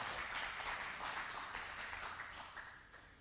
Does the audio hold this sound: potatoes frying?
no